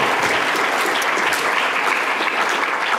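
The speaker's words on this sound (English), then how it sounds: "let's give the organizers a round of applause, right?" Audience applause at a tech conference talk, a dense, even patter of many people clapping throughout three seconds without pause.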